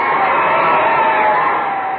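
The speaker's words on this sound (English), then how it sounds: "Listen to this crowd cheering the winners." A stadium crowd at a football game cheers the winners with a steady, roaring mass of voices and shouts, sustained and loud, heard through a narrow, old-radio-like sound.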